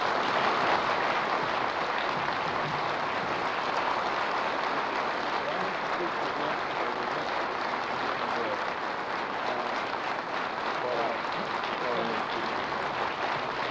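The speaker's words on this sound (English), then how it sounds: "Help me give a New Mexico round of applause to Don McAlvaney." A large audience at a 1994 gathering in Albuquerque, New Mexico gives sustained applause, a dense, even roar of clapping that holds steady at full strength from start to finish with no talking heard over it.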